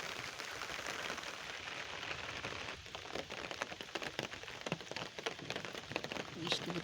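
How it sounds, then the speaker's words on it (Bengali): Steady rain falls across an open grass field, a dense even hiss filling the whole span, with occasional close patters and faint movement mixed in. "বৃষ্টি পড়তিছে"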